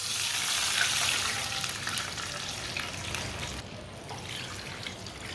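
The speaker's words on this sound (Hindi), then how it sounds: "2 प्याली पानी डाल लेंगे।" Water poured into a pot holding hot oil and whole cumin seeds sets off a loud, steady hiss and sizzle up close that gradually settles to a softer bubbling crackle.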